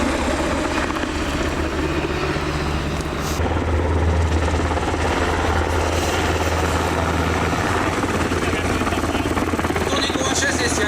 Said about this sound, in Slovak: Vrtuľník UH-60 je pre všetkých určené podporu pozemných vojsk pri vedení bojových operácií